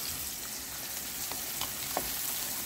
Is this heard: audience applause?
no